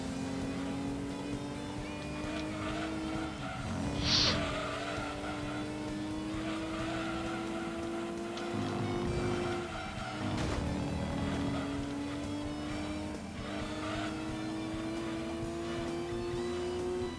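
A Lancia racing car in Gran Turismo 2, its engine droning steadily and shifting pitch through gear changes, with brief tire squeals and a few sharp bursts, close and constant without talk.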